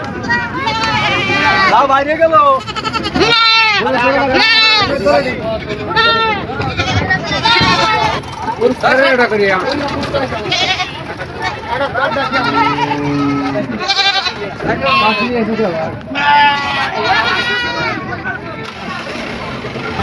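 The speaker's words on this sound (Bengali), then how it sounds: "এখন দেখেন ছাগল কিভাবে নামায় টলার থেকে" Many goats bleat repeatedly and overlap while being unloaded from a trawler boat at a livestock market, some near and loud, amid shuffling, scrambling movement and people talking in the background.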